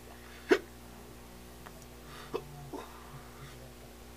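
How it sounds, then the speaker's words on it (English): Someone vaping a black cherry tobacco e-liquid hiccups three or four times, short sharp catches spaced about a second or two apart. They sound close, against a quiet room hum, with no speech. "I've got the hiccups."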